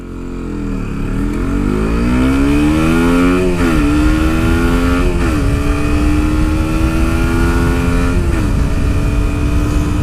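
A KTM RC125 motorcycle accelerating hard, its engine climbing in pitch through several gear shifts, each shift marked by a brief drop before it winds up again. The sound is loud, continuous and close, with no talking.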